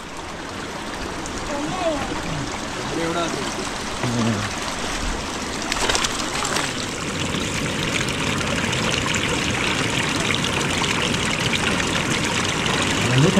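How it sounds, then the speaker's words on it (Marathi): A shallow, cold stream flows steadily, producing a broad continuous rushing wash that stays even and fairly loud throughout, with a few faint voices and brief splashy touches near the start. "पाणी वाहत आहे पण हे एवढं काही खोल नाही"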